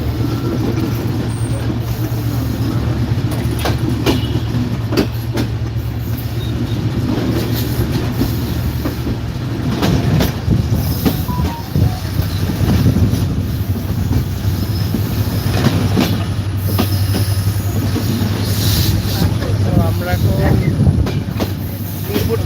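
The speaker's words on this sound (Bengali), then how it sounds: "প্রকৃতির মাঝখান দিয়ে ট্রেন চলে যাচ্ছে" The Kapotaksha Express passenger train moving through countryside in Bangladesh, heard close from aboard as a loud, continuous rumble with a steady low hum, rhythmic clacking of wheels over rail joints and occasional squeals.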